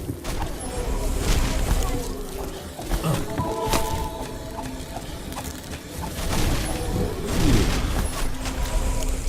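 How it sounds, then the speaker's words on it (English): Chain reaction of exploding barrels in the video game Book of Demons: a dense burst of booms and rattling blasts over busy game noise, loud and continuous with several overlapping hits. "I'm assuming that I set up some kind of chain reaction with barrels and it just went boom"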